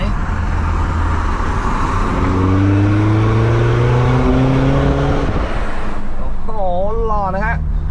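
BMW G20 diesel fitted with a Euro Arts exhaust, heard from outside, revving loudly with a deep rising drone that swells and falls back, then short blips of the throttle near the end.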